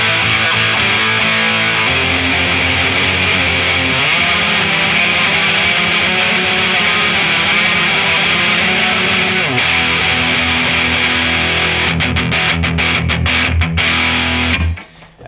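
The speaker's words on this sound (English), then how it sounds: "You want a healthy amount of distortion, but not so much that you can't figure out what's going on." A heavily distorted electric guitar sustains thick chords, loud and close, changing every few seconds, ending with choppy muted strums.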